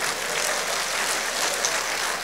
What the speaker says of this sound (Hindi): हंस लो पहले एक बार, या ताली बजा दो